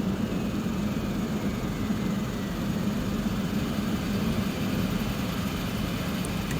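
Propeller engines of a simulated airliner spooling down after parking in Flight Simulator 2020, a steady low droning rumble at constant loudness throughout.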